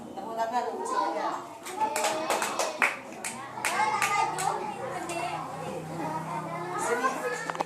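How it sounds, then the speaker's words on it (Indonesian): Children in a classroom clap their hands in a burst of scattered applause, mixed with kids' voices and chatter throughout. "Tepuk tangan untuk semuanya."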